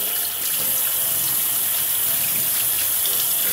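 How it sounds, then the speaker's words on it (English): Tap water running into a sink for washing hands, a steady bright rushing stream close by, continuous and loud for the whole stretch with no voices. "I'm going to turn on the water for you"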